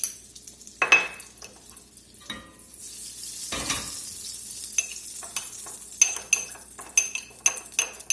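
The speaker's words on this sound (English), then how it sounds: "I'm just going to smash them with the back of the spoon here just to bust them up a little bit" A metal spoon presses and smashes capers in a hot pan of butter, giving sharp clinks and scrapes against the pan over a soft sizzle, loud and close, with pauses between bursts of tapping.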